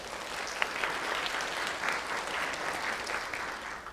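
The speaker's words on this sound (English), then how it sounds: "if I could hear a round of applause for our presenters" Audience applause for presenters at a keynote on decentralized data, a full and steady wash of clapping from a crowd that holds at an even level throughout.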